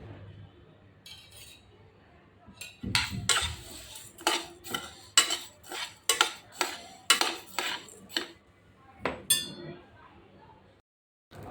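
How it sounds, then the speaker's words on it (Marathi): Rice being dry-roasted in a pan until golden, a regular series of loud scraping, clinking stirs of a spoon against the metal pan heard up close, about a dozen strokes in steady rhythm. "स्वच्छ धुवून उन्हात सुकवून आता ते आपण छान सोनेरी होईपर्यंत भाजून घेऊया।"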